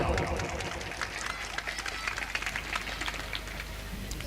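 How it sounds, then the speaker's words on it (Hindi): An audience at a Ramayan competition event claps together, a steady, dense patter of many hands that holds for several seconds without a break. "चलिए एक बार जोरदार ताली बजाइए सबके सब।"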